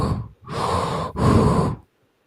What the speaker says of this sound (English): Someone's breathing heavy.